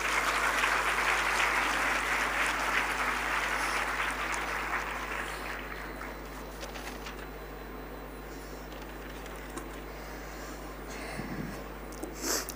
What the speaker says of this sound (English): Let us appreciate our brave performers with a big round of applause.